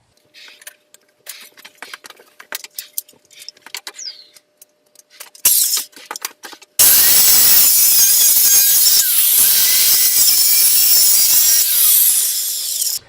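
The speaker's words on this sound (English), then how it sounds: "Now I just cut through the first 3 planks on here" A saw cuts through wooden pallet planks: scattered clicks and knocks give way to loud, steady rasping up close that runs without a break for about six seconds.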